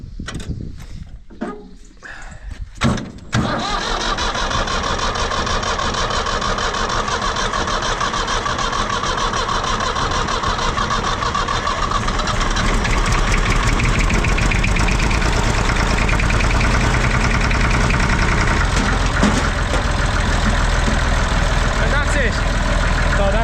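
A Massey Ferguson 35 tractor's diesel engine cranks briefly in a few uneven bursts, then catches and runs with a loud, steady, close clatter that holds for over twenty seconds.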